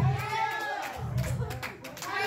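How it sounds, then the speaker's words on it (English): Hand clapping from a church congregation during a sermon, scattered claps under a loud, resonant voice that dominates throughout. "Clap those hands and open your mouth"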